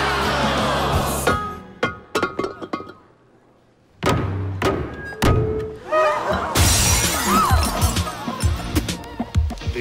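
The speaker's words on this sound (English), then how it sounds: "The maid of honor shatters a vase, and it symbolizes happiness for the bride and groom." A ceramic vase is smashed hard at a wedding celebration in Rome, giving several loud, sharp shattering crashes and thuds, with short pauses between them, under lively crowd noise and cheering.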